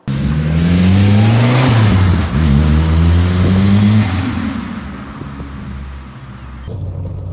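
Turbocharged Nissan K11 Micra with a GT20 turbo, close and loud, its engine pitch climbing through gears in repeated rising pulls, then easing off to a lower drone with a faint whistle.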